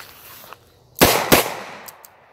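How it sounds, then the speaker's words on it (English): Two loud, sharp revolver shots fired left-handed on a range ring out close together, then a couple of faint distant pops follow. "last two rounds, left hand only"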